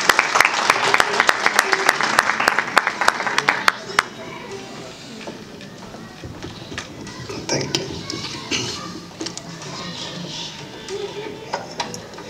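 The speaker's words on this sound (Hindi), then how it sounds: "स्वागत कीजिए तालियों के साथ" Audience applause at a book launch, with loud, dense clapping for the first few seconds that thins into scattered claps and faint room noise.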